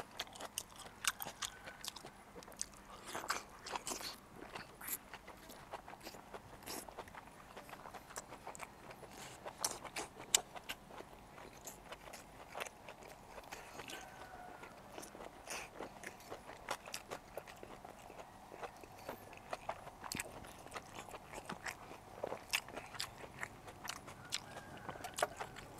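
Steady close-up chewing and crunching of food during a mukbang eating show of sausages dipped in seafood sauce with fresh vegetables, a continuous run of small wet bites and crackles at low volume.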